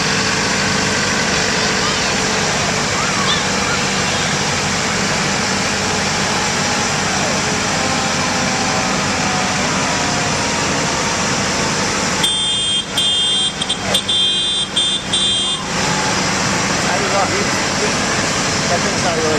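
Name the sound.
small tractor engine running in a parade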